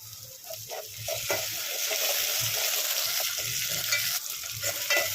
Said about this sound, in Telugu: పుదీనా ఉల్లిపాయలు అయితే మంచిగా ఫ్రై చేయండి